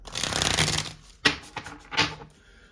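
A loud burst of tarot cards being riffled, then two shorter shuffling flicks, close and with no voices.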